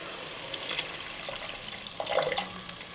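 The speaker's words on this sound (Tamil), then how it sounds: "இப்போ நம்ம எடுத்து வச்சுருக்கிற புளி தண்ணி ஊற்றிக்கலாம்" Tamarind water poured into a pan of sardine fish curry, giving a soft, close liquid splash and trickle that swells twice, around the middle and again near the end, with no voices.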